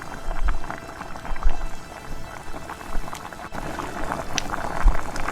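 Fish pieces frying in hot oil for a Hyderabadi Nizam-style masala fish fry, giving a steady close crackle and bubbling with occasional soft pops, no voices.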